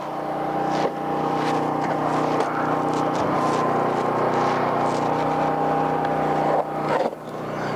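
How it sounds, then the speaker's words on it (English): Asphalt recycling machine that reheats leftover asphalt, its mixer running with a loud steady mechanical drone and tonal hum, plus a few scraping knocks near the start and the end. "We're going to turn that mixer on and it'll kick out that little bit of residue that was left from yesterday."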